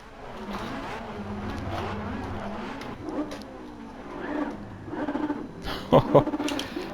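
A 2013 Porsche 918 Spyder in Gran Turismo 7 on the Nürburgring accelerates hard, its engine note rising and droning steadily, with a few sharp louder bursts near the end.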